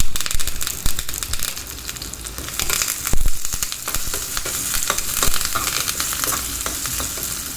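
Shallots and curry leaves fry in hot oil as the tempering for a Thanjavur kathamba sambar. The sizzle is loud and continuous, broken by crackles and the scraping clatter of stirring, with no talking.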